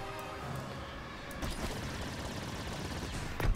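Gunfire in the video game Star Wars Battlefront 2, a dense continuous stream of rapid shots with a slight jump in loudness partway through, without talk.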